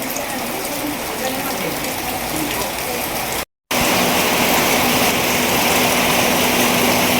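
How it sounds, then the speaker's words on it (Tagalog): Steady rain falling continuously at a resort, a dense even hiss of drops on surfaces that holds for several seconds, broken by one brief gap of silence. "Kagabi pa yung ulan na yan."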